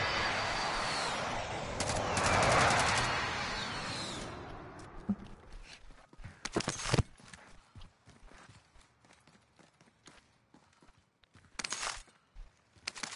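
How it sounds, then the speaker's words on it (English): Gunfire in a Call of Duty Warzone match on Rebirth Island: scattered sharp shots and bursts come in irregular clusters, some loud and close, others faint and distant, over a busier noisy stretch at the start. "Taking fire over here!"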